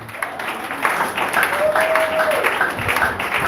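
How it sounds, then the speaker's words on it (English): Applause from a conference audience, a steady patter of clapping mixed with scattered voices. "Clap for everybody we don't talk before."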